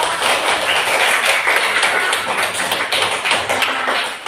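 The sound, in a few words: class clapping for a group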